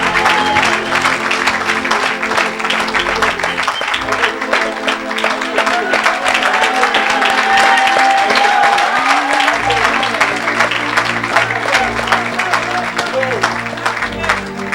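A church congregation at a healing service claps and cheers steadily, the applause dense and continuous, with music and voices mixed in beneath the crowd noise.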